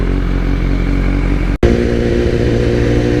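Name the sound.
BMW S1000RR motorcycle engine accelerating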